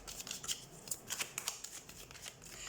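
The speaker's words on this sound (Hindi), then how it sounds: "So let's shuffle the cards and let's see." Tarot cards being shuffled by hand, a quiet run of crisp riffling flicks and soft slaps in irregular bursts, close up with no voice over them.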